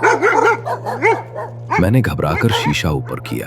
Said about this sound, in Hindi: कुछ नहीं, पीछे कुत्ते भौंक रहे थे।